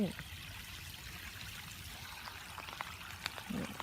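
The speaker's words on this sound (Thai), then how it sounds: "เห็นไหมน้ำไหล เย็นน้ำใสไหลเย็นเลยค่ะ" Soft, steady rush of flowing stream water by rice fields after days of rain, with faint trickling and a few small splashes, heard from close by.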